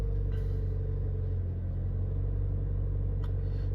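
A 2.5 litre XLE car with push-button start idles steadily just after starting, its low, even rumble close and continuous with no talk over it.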